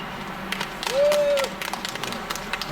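Applause from a small audience at an outdoor press conference in a park area in Korea, brief scattered clapping with a short tonal whistle-like sound in the middle, fairly close, no talking.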